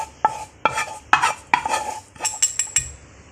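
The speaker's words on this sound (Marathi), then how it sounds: "आता या चुरम्यामध्ये हे घालायचं।" A metal spoon mixing ingredients into churma for laddu in a bowl, with a series of sharp clinks and scrapes in an uneven rhythm, close and distinct with no talk.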